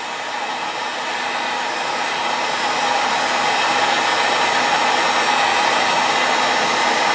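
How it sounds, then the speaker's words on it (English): Heat gun blowing hot air onto a fuel line fitting during a repair, a steady, loud, close airflow roar that holds for several seconds with no talking. "I'm going to take the heat gun, I'm going to heat it up for about 30 seconds"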